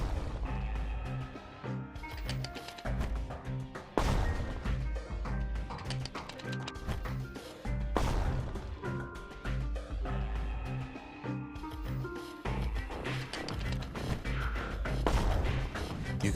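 Mortar fire in the video game Bastion: heavy booming blasts land about every four seconds, loud and close, over a steady layer of game music.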